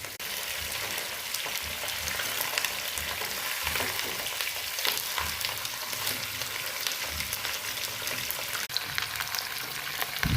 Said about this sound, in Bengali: মাছটা একটু ঘুরিয়ে দিলাম অপর পাশটা